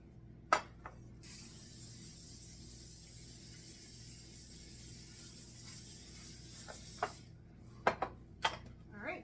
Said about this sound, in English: So I'm going to spray my casserole dish first.